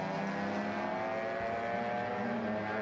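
Mini race cars racing at Sonoma Raceway, a steady engine drone holding at moderate distance with a slight pitch shift partway through, and no voices.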